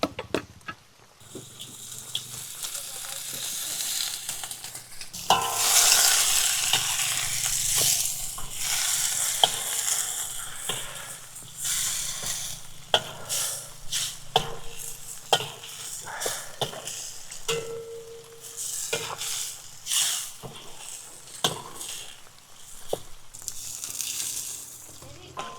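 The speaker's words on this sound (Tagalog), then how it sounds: "Kailangan lutuin natin ang kamatis at para kumatas, para lumasa" Tomatoes cooking in a pan, with scraping stir strokes and intermittent sizzle mixed with splashing water-like noise, fairly close and irregular across the stretch, no talk.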